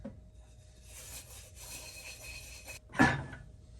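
Quiet, close scraping and rubbing as sticky homemade bread dough is worked off the sides of a bowl, ending with a brief louder knock or thump.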